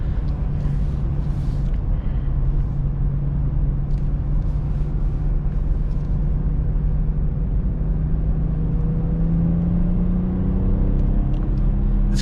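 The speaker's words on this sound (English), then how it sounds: "This car puts the power down instantly. The throttle response is awesome." A 2019 BMW 740i xDrive sedan pulls hard under acceleration, a steady loud engine drone with a tone that climbs gradually, heard continuously from inside the cabin with no voices.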